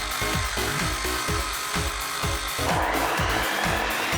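A circular saw cuts through a full 3x6 sheet of softwood plywood, its loud, steady whine pulsing with a rough, repeating rhythm throughout and no talking.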